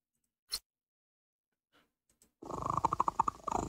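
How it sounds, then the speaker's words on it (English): A cat purrs in the video game While True Learn(), a close, rhythmic rumbling purr with regular pulses that starts abruptly after a few faint isolated clicks in near silence. "it purrs"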